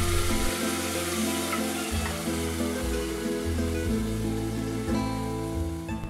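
Marinated mutton added to hot oil with browned chopped onion and a bay leaf sizzles steadily and loudly under background music throughout.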